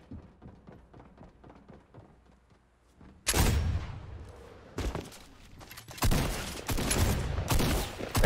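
Gunfire from a weapon in the video game Fortnite: after a quieter stretch of soft tapping, loud bursts of rapid shots erupt close up, with several dense volleys in a row and brief gaps between them.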